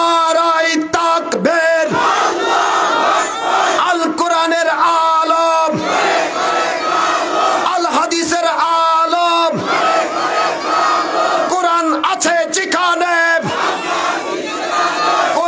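Crowd at a Bangla village Quran tafsir mahfil shouting the takbir chant in unison while rising to their feet, loud massed voices in repeated rhythmic bursts filling the whole stretch.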